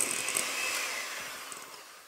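Sugar and cheese being whisked for an almond Easter nest cake, giving a steady, fairly loud whirring hiss that runs evenly through the whole stretch with no voices.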